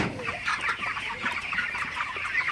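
A flock of 31-day-old broiler chickens clucks and chatters continuously, many overlapping calls forming a busy, close-up din.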